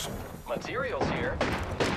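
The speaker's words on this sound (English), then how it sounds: "Being shot at." Gunfire from the Apex Legends video game, heard as dense bursts of shots and impacts running through the clip under steady game noise, with a player's voice talking over the action.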